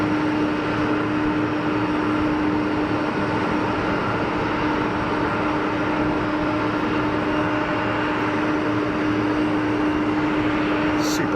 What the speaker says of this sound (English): Super slow taxi.